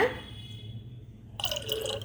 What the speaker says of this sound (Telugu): ఒక్క కప్పుడు తీసుకుని వాటర్లో కలపాలి